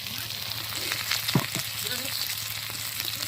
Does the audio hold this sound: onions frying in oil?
yes